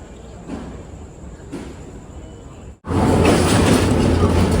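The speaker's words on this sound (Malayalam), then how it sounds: "ഇതൊരു എക്സ്പ്രസ് ട്രെയിനാണ്" An express train on a Sri Lankan line passes close by as a loud, sustained rush of wheel and carriage noise, swelling suddenly after a quieter stretch of faint rumbling and background sound.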